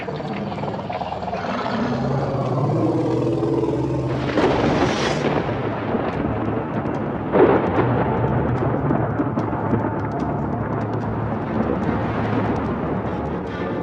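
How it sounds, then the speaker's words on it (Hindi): Summer storm thunder over the Luangwa valley, deep rolling rumbles building in long waves with a couple of louder swells, distant and sustained, no voices. "गर्मियों के दौरान लुआंगवा में लगभग रोज ही बादल गरजते हैं और बरसते भी हैं।"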